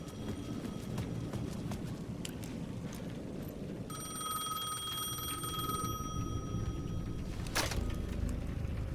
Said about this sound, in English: payphone at the edge of the plaza was ringing again